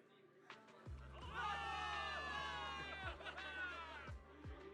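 A crowd of soldiers roars and cheers in celebration of victory in a Zenless Zone Zero cutscene, loud and sustained with shouts rising over a low rumbling backing, swelling after a quiet start.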